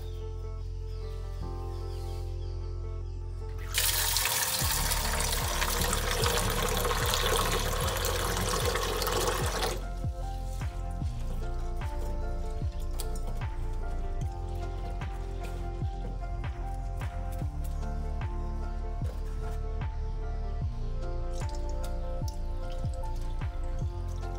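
Soaked grains for idli batter being washed in water, with a steady sloshing rush for several seconds, then continuous close dripping and splashing as the grains are rinsed and stirred by hand.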